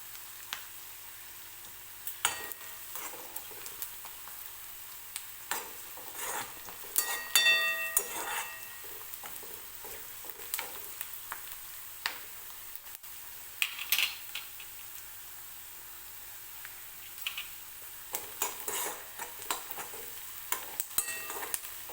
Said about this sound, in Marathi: आणखीन 1-2 मिनिटं हा कांदा मी तेलामध्ये असाच भाजू देते